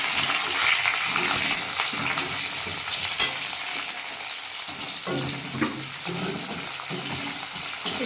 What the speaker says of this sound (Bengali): এটা আমি তেলের উপরে দিয়ে দেবো